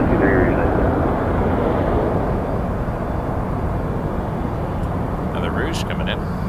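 Air Canada Rouge Airbus A320 arriving at Toronto Pearson airport, a loud continuous jet roar filling the air, with a voice talking partway through.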